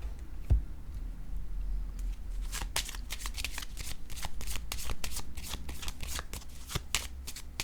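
Tarot cards being shuffled close up, a quick run of crisp riffling flicks and slaps that starts after a single soft knock, with no voices.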